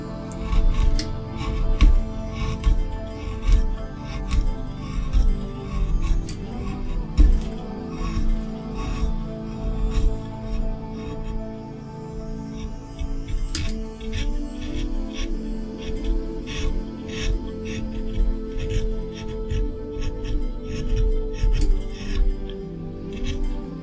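Hand roughing of a wooden carving of a feral Gibberer creature: steady, close rasping and scraping strokes with frequent sharp ticks and taps, a continuous workshop texture with no talk.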